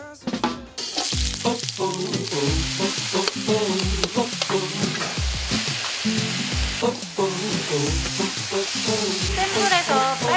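Korean fish cakes stir-fried fast over high heat, a loud continuous sizzle with clattering spatula strikes on the pan every second or so, close up, with a busy kitchen hum underneath and no talking.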